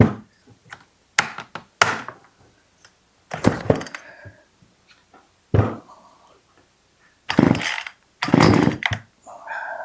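An Echo CS 370 chainsaw being started: several sharp pulls of the starter cord in uneven bursts, each a brief loud rasp, with short pauses and no sustained running between them.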